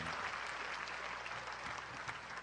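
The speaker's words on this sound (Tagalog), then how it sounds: "Ibigay ang matunog na palakpak sa Diyos na kasama natin." A church congregation at a healing service breaks into loud, even applause, a thick continuous patter of many hands with a faint low murmur underneath.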